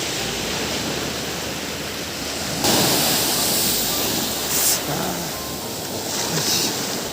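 Sea waves wash steadily onto a beach on the Tamil Nadu coast, a broad continuous roar with a louder surge partway through and a few fainter breaking swells, with no talk.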